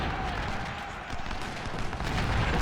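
Cannon fire from artillery in a Civil War battle video game, heard as a dense, continuous rumble of distant booms and crackling volleys with no clear gaps, loud and steady throughout.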